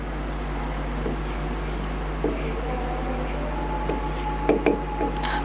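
Pen scratching on paper while writing out a trigonometry solution, soft intermittent strokes and taps over a steady room hum, with no speech.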